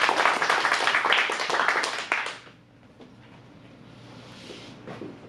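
Applause from an adult improv class audience: a burst of clapping for about two seconds that quickly fades into quiet room tone.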